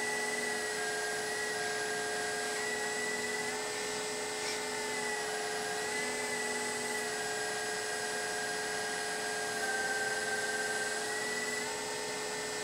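A LESU ET35 model excavator digging gives a steady, continuous hydraulic pump whine with layered tonal hums that shift slightly in pitch as the arm and bucket move, close and constant with no speech.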